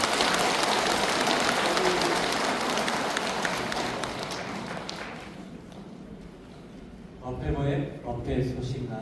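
Applause from a congregation at a Buddhist dharma service, a dense sustained clapping that fades out before a voice begins speaking over the quieter hall.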